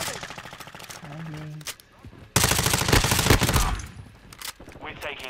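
Rapid automatic gunfire from an MP5-style submachine gun in the Modern Warfare II beta video game, loud bursts with a dense sustained volley in the middle, mixed with game announcer voices and a player talking.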